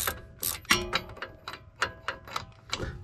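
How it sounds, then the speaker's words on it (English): A ratchet wrench with a 17mm socket loosening brake bolts during a brake rotor change, giving a rapid series of sharp clicking bursts in uneven spurts, close and clear with no talking. "17mm socket. Stick that on there and just loosen it up."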